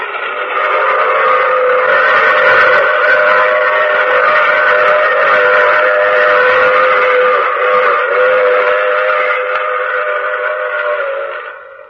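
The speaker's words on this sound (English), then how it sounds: "I take this same train every week at this same time." A steady, loud train sound effect from a radio drama, a sustained rumbling roar with a whistle-like tone running continuously for about twelve seconds before fading at the end.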